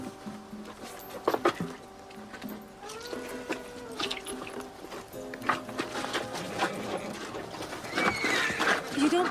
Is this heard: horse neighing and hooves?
yes